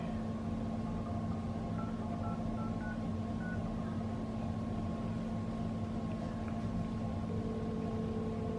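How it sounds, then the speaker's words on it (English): A short sequence of beeping dial tones from a new Apple phone plays over a steady low hum and hiss, the tones evenly spaced and fairly faint. "Let's try making a call."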